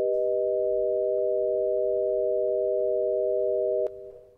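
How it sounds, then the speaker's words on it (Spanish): Simple sine tones forming the intervals G, B and D-sharp ring together as a steady, sustained chord, then cut off with a faint click near the end. "Esto es con tonos simples."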